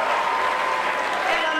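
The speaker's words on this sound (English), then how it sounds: "The crowd exploded with cheers and applause last night after it was announced Elizabeth Warren would be headed to the" Crowd at a 2012 election night watch party in Massachusetts cheering and applauding as a U.S. Senate win is announced, a steady dense roar of claps and voices filling the whole stretch.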